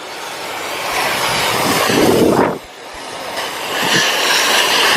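Foam sprayed under pressure onto an SUV at a car wash: a loud, steady broadband hiss that briefly dips midway, then resumes.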